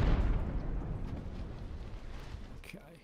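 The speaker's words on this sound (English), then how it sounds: "Now it's this turn of these guys to take a pounding from the artillery." Rumbling booms of artillery fire in the Age of Sail strategy game Ultimate Admiral, a heavy low roar that starts loud and slowly fades over a few seconds, with someone talking over it.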